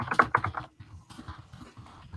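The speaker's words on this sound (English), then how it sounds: "Who's typing?" Rapid clattering keystrokes on a computer keyboard, picked up on a live chat microphone, loud at first and then trailing into softer, sparse taps with no speech over them.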